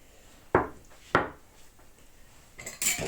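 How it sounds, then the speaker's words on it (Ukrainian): A spoon knocks and scrapes against a bowl a few times while stirring, with short clinks spaced apart, close and fairly quiet. "Я так трошечки ложкою перемішаю."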